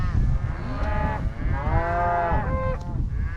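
A cow on a cattle ranch lets out a loud, drawn-out moo that rises and wavers, nearby and clear, followed by a shorter second call over a rumbling outdoor background.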